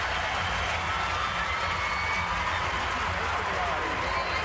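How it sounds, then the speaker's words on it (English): A crowd on its feet at a gymnastics world championship event finals in Anaheim, 2003, cheers and applauds as a steady, dense roar of clapping and shouting that holds level throughout, with an announcer talking over it. "And the crowd is going absolutely nuts"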